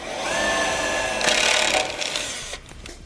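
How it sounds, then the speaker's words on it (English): Power drill boring holes into the body of a 2014 Chevrolet Silverado 2500 pickup, a steady close whirring grind that swells briefly midway, then cuts off and trails into quieter scraping. "And once we have all of our holes drilled out"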